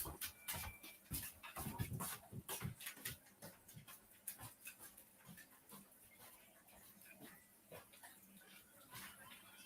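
A farmhouse dog pants close by in quick, uneven huffs, with a few soft whimpers and yips mixed in, loudest early and then easing into quieter steady breathing.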